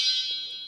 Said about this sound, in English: It's got a loud horn.